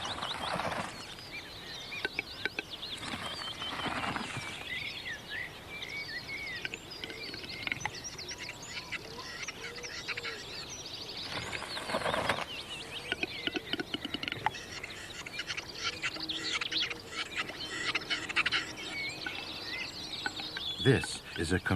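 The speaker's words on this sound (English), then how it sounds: "The male capper is an impressive bird. On their traditional display grounds, they compete with each other." Male capercaillie calls on its traditional display ground, a faint series of clicks, pops and chirping phrases among other birdsong, with a narrating voice speaking over parts of it.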